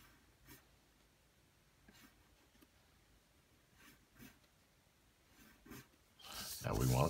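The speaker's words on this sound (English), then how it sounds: "You can see I'm pulling my pencil back harder as I'm going through it, making my lines just a little thicker." Pencil shading strokes on paper, a series of separate, soft scratchy strokes spaced a second or so apart, followed by a louder, denser scrape at the end.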